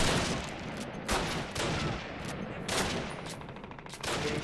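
Gunfire erupts from all sides in the Call of Duty V-2 rocket site mission, with rapid rifle and machine-gun bursts crackling in clustered volleys and brief pauses between them.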